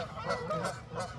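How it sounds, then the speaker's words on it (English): Territorial geese defending a nest on a pond honk repeatedly in a loud, raucous burst, harsh calls overlapping close by. "the geese are going crazy"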